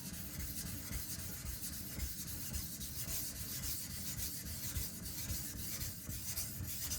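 Karaku AS gyuto 210mm knife stroked steadily across a fine whetstone, a continuous soft rasping scrape with an even rhythm, faint and close.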